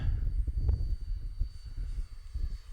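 An FMS Viper 15-year edition PNP radio-controlled jet flies past slowly with landing flaps and gear up, a fairly distant, low rushing engine hum that swells and fades over a few seconds with no voices.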